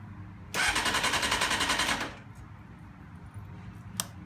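A 1991 Honda CBR 600F2 motorcycle engine turns over on its starter: a loud, rapidly pulsing crank for about one and a half seconds that stops without catching, then quiet with one brief click.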